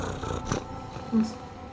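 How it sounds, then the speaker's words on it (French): A cat purring in a video game, a low rumbling purr running under the whole short moment, with a brief louder swell near the end. "Ah, mon chat, il est là."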